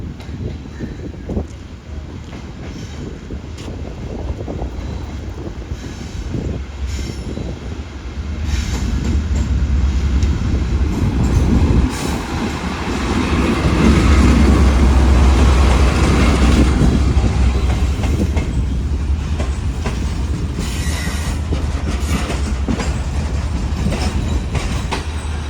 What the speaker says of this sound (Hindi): लाहौर कराची के दरमियान चलने वाली 27 of Shalimar express ZCU36 311 train की लीड पर लगा हुआ है।